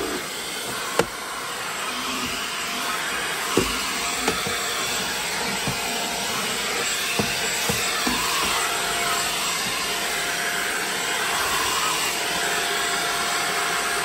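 A cordless 2-in-1 vacuum cleaner running indoors, a steady loud whine and airflow hiss throughout, broken by a few faint knocks and clicks.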